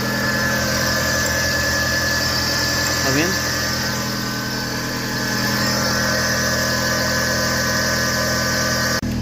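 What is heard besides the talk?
car engine whine from steering or alternator, rising with revs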